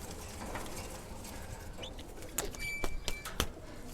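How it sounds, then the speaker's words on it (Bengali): Pigeon cooing in a household loft among kept pigeons, soft coos and brief chirps against a quiet background, with a few light taps and rustles near the end. "আসুন আপনাদের আজকে একটা অদ্ভুত কবুতর দেখাই আমাদের বাসার"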